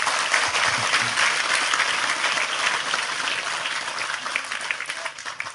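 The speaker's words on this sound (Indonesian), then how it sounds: "Sekali lagi tepuk tangan lebih keras untuk Tejo." Thick, continuous applause from a large crowd at an Indonesian religious study gathering with Cak Nun, cheering on Sujiwo Tejo, steady and full throughout with no talk on top.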